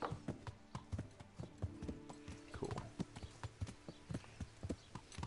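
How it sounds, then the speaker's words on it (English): Horse hooves clip-clop steadily in Kingdom Come: Deliverance, a medieval role-playing game, with a crisp, close, irregular walking rhythm and a faint low game ambience underneath. "Can my horse jump this?"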